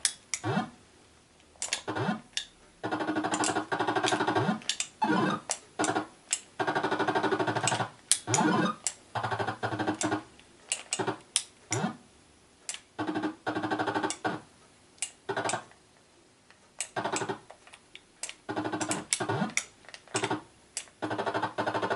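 Astro Nell played on a Commodore VIC-20, a run of sharp electronic blips and buzzy tones in quick, irregular bursts, loud and close with short gaps of near silence between them.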